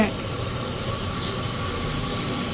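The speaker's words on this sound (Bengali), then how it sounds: "এই পাশে আমি পটল দিয়ে ভাজি করে নেব" Pointed gourd frying in hot oil in a pan on a home stove, giving a steady, continuous sizzling hiss close by that holds evenly throughout, with no voices over it.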